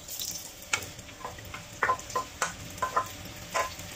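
Mushrooms hitting a hot pan while cooking risotto give a close, faint sizzle with a string of sharp crackles and clinks, no talking.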